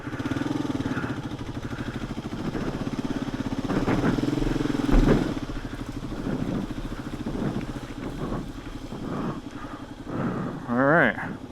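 A Suzuki-type SM500 motorcycle engine pulls in first gear with a steady close, rumbling drone, wind buffeting the microphone and voices talking over it; a brief rising rev near the end.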